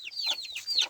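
Hen clucking on a frosty morning at a farm, a few short, high, bright calls in close succession, fairly near and alone with no talk.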